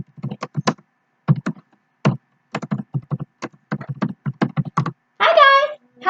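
Quick bursts of clicky keystrokes on a computer keyboard in a classroom, tapping in uneven runs with short pauses. The typing is close and distinct, with a brief scraping or rustling noise near the end.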